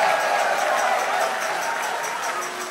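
Crowd applause at a live children's carnival song festival, the Kinjer Vastelaovend Leedjesfestival, greeting last year's winners. Steady, dense clapping with crowd noise fills the whole stretch and fades slightly toward the end.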